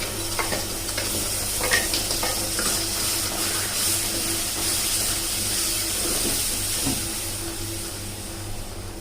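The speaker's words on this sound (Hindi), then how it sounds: "अब मसाले को हम थोड़ी देर भून लेंगे" Spice masala sizzles and fries in a pan over a low flame while it is stirred, giving a steady crackle with scraping stir sounds, close and moderately loud with no talking.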